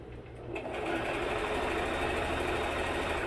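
A sewing machine stitching a tablecloth, starting after a brief quiet moment and then running as a fast, continuous mechanical whir at close range.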